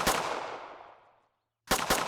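Glock pistol shots from a C++ first-person shooter demo: one loud sharp report with a long decaying tail, a moment of silence, then two more quick close shots.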